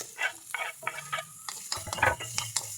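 Garlic and onion sauté in a little oil for vegetable lumpia, with a close, crackling sizzle and quick repeated scrapes of a utensil stirring the pan.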